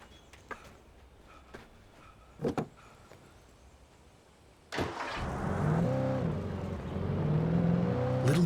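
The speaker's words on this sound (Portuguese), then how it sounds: "Vou pegar meu carro aqui." A car engine starting in the horror game Alan Wake, preceded by a few soft clicks and door-like knocks, then a sudden ignition and a steady, rising engine hum that holds close and loud to the end.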